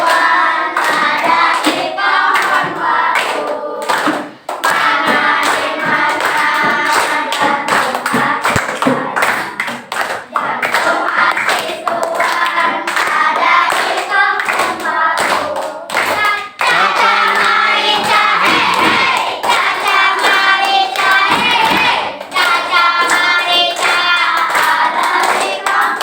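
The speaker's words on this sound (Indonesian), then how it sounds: "Tepuk" Schoolchildren in a fourth-grade class at an Islamic primary school clapping their hands in rhythm to a song, with steady loud claps throughout under singing voices.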